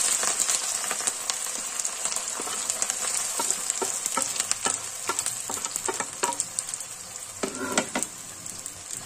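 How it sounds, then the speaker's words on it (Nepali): Garlic fries in hot mustard oil for a Nepali pickle, a continuous bright sizzle with scattered pops and the scrape of stirring, close and alone without voices. "अब लसुन राख्नुपर्छ भुट्नको लागि।"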